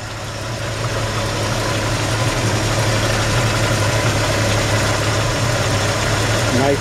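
A cold 1953 Chevrolet 3100 pickup with its 235 six-cylinder engine idles steadily, a low, even rumble holding at a constant level throughout with a faint sustained hum.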